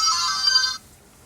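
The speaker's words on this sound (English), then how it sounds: "That noise says it's downloaded." A small robot plays its download-complete notification, a bright electronic ringing chime lasting under a second before cutting to near silence.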